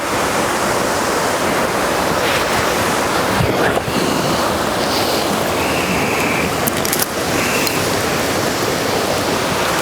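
Steady, loud rushing water roar fills the whole stretch, a constant broadband wash like a nearby waterfall, with faint higher tones drifting over it.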